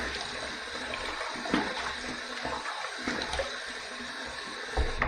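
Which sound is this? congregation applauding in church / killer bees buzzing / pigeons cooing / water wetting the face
water wetting the face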